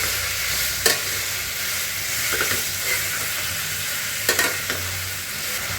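Chilli chicken is stirred in its seasoning in a hot pan, giving a continuous loud sizzle with a few sharp scraping strokes of the spoon against the pan.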